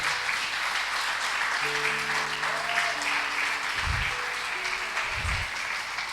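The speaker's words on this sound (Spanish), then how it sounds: "¿Te animas a darle un aplauso al Señor?" A church congregation applauds to the Lord during a sermon, a broad steady clapping wash with sustained organ-like tones underneath and a couple of low thumps near the end.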